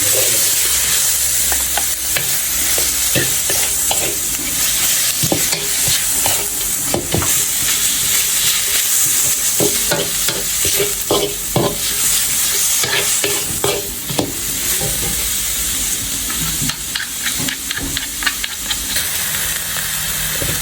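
Quail stir-fried with chili in a hot pan, a loud continuous sizzle and hiss broken by repeated scraping and clanking of the spatula, close and without speech.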